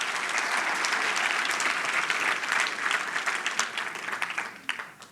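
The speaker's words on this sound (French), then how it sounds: "je pense que ça mérite un main d'applaudissement" Sustained applause from a church congregation during a Sunday morning service, dense and steady for several seconds before thinning into scattered claps at the end.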